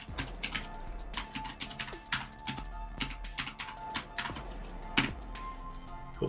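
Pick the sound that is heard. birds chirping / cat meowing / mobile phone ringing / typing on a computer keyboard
typing on a computer keyboard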